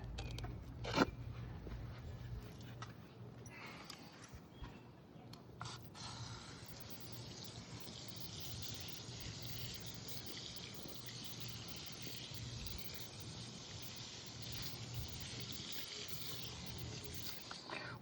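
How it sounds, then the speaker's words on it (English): Steady rush of water pouring and splashing onto a plant's soil, continuous for the whole stretch, close by and fairly quiet. "And now we're going to water it."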